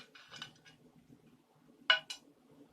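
A spoon stirring sage and mushrooms in a pan, giving a few light scraping sweeps followed by a couple of sharp metallic clinks against the pan, close and quiet with no talk.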